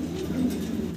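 A large pair of black Roman pigeons coos in a close, continuous, throaty murmur of soft repeated calls throughout.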